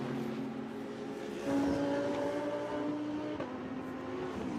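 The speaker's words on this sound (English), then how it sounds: "So Mirko Bortolotti then in that really, really distinctive Lamborghini" A GRT Lamborghini race car drives during DTM free practice at the Norisring street circuit. Its engine note is steady and moderately distant, rises briefly in pitch, then settles back under a constant track background.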